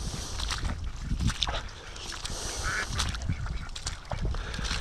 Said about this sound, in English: we'll get the ducks out onto the water